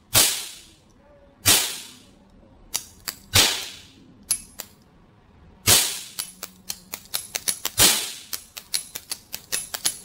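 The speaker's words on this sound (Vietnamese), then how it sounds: "Ui, nổ rất đanh nhé. Bắn phát nổ ngay" A toy cap gun revolver, a copper-coloured drum-loading popper model, fires caps with sharp, loud, close bangs. Several isolated shots give way to a rapid string of cracks near the end, with no talking.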